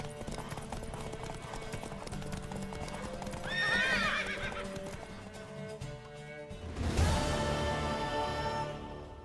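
In The Witcher 3, a horse gallops with steady clip-clopping hooves under dense music and ambience, and a whinny rises partway through, followed by a louder burst of noise.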